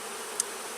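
Honey bees at an opened hive during a honey harvest make a steady, close insect buzz through a brief moment, with one tiny tick partway through.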